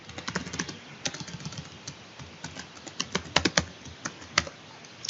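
Keys tap on a computer keyboard as a password is entered, a close, quiet run of irregular clicks with brief pauses, no talking.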